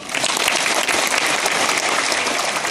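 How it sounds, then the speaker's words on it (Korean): A church congregation breaks into applause, a dense burst of many hands clapping together, loud and close, sustained evenly for a few seconds. "박수."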